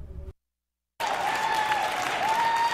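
A crowd cheers and applauds at a Democratic election night headquarters, breaking out after a brief silence into sustained, loud clapping with cheering voices and a rising whistle.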